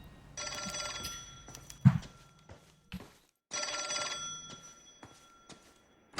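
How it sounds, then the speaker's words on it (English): An old-fashioned telephone bell rings in two clear bursts inside the L.A. Noire game, fairly quiet with soft thumps and clicks between the rings and no talking. "Just in time to get that phone."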